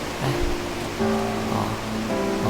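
A waterfall in the video game Ai Shoujo gives off a constant rushing hiss of falling water. Faint tonal notes float above it.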